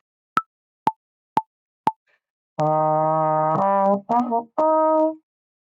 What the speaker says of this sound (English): I'm going to record just a bit of a strange noise that I'll play on my horn